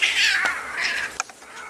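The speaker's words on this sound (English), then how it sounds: "cat fight" Cats fighting outdoors near a house air conditioner, with loud drawn-out yowls and caterwauling rising and falling, then a few sharp short cries and hisses toward the end; no talk.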